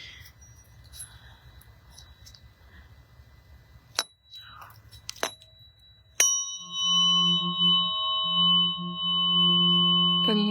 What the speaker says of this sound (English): I'm using 2 forks at one time. So I've got 639 and 174 hertz